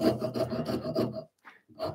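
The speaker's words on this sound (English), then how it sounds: "I'm going to go Japanese file." A Japanese file rasps across the curved edge of a wooden Adirondack chair part in several quick back-and-forth strokes, close and dry, with a brief pause before another stroke begins.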